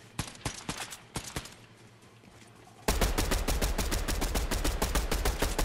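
Video game gunfire: scattered single shots at first, then a dense, loud burst of rapid automatic fire that continues without a break to the end, with no voices.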